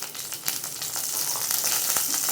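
Onions and dried red chillies frying in a pan, a steady bright sizzle with crackles and a few sharp pops, close and unbroken, no speech.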